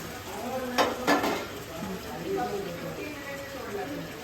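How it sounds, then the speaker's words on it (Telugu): Onion paste and masala frying in oil in a pot for a fish curry, with a steady soft sizzle and a couple of sharp stirring scrapes near the start, under quiet background talk. "బాగా ఎర్రగా వేగిపోయిందా మసాలా, ఉల్లి ముద్ద, నూనెంతా పైకి వస్తుంది కదా."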